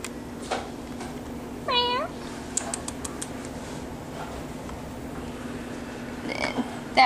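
A single high, thin meow from an orange kitten rises above a steady background hiss, with faint scattered clicks before and after.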